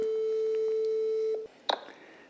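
A single long steady telephone tone sounds while a call is being placed, cutting off abruptly, followed by a brief burst of a line click or noise.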